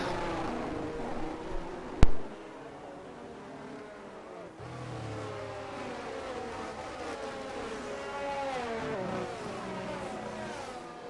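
Race car engines in a sim racing game at the United States GP, whining and shifting pitch as cars pass and accelerate, moderately loud, with a sharp click early on and continuous layered engine tones.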